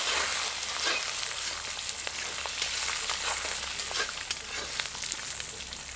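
Garlic frying in oil for a crab masala gravy, a dense steady sizzle and crackle with occasional soft stirring taps, close and even throughout.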